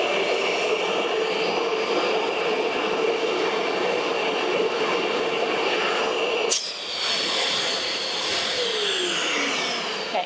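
Festool CT MIDI dust extractor running with suction turned all the way up, a loud steady roaring whoosh that shifts to a higher whine partway through as airflow changes.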